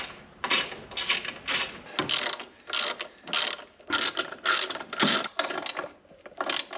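A ratchet wrench tightens bolts to mount a pump on a Mercedes-Benz C450 AMG, giving repeated quick bursts of rapid clicking in a steady rhythm, close and clear with no talk.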